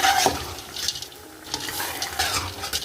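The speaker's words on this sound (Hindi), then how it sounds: "ये आधा किलो मटर हैं। और इनको अच्छे से भून लेंगे।" Half a kilo of peas frying in a pan while being stirred, close scraping and rattling of the spoon over a soft sizzle, with a few clinks against the pan and no speech.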